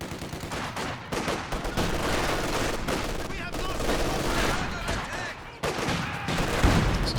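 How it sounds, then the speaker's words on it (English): An artillery barrage and grenade explosions boom in the WWII strategy game Company of Heroes 2, with heavy repeated blasts and gunfire crackling close and loud. Talk runs underneath the battle. "This is barrage and the grenades."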